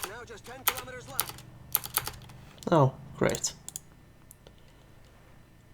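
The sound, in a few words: computer keyboard keys being pressed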